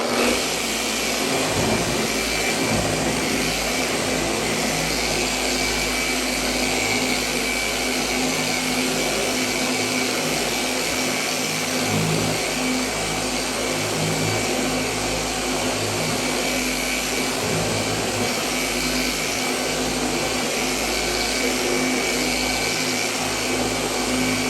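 Machine polisher running at low speed while spreading Koch Chemie Hartwachs wax across a car panel, a steady motor whine and hum held at even volume throughout.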